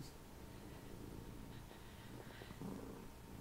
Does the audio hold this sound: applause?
no